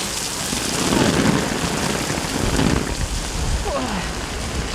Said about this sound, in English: I think rain is very beautiful to watch.